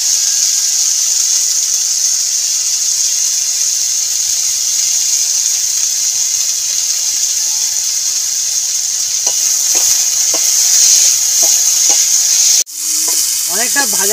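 Potato filling for aloo paratha fries in a pan with black cumin and salt, giving a loud, steady sizzle throughout, with a few scraping stirs near the end and a sudden shift in the sound just before it stops.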